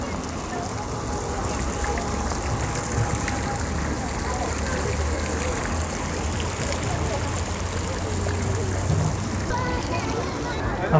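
Water pours steadily down a wall fountain at DLF Avenue mall in Saket, a continuous rushing trickle with a low background hum throughout.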